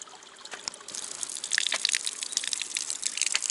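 Water from a mineral-spring fountain in Bad Nauheim splashes and trickles continuously, a bright gushing flow close by that grows a little louder after the first second.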